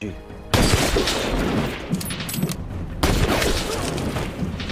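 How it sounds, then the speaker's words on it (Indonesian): Loud gunfire bursts from a sniper action film scene, a sharp shot at the start and another heavy blast about midway, each followed by dense rumbling reverberation and debris-like noise. "akhirnya Brandon berhasil menembak pengamat dan ahli IT Gazakov"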